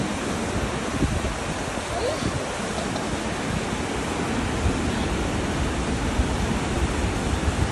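Takakkaw Falls, a high waterfall in British Columbia, Canada, roaring as a dense, constant broadband rush of falling water with a faint wind buffet.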